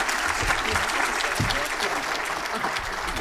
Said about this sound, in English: Round of applause for Kelly